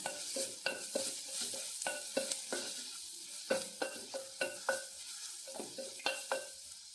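Sliced onion is stirred in a frying pan for a vegetable biryani, with a steady sizzle under repeated scraping strokes of a spoon against the pan, close and fairly quiet, with no talking.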